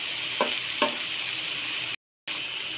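Cabbage sauteing in a pan with onion and spices, a steady close sizzle broken by a couple of soft stirring scrapes, with a brief cut to silence near the end.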